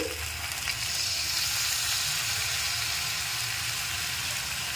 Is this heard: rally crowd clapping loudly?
no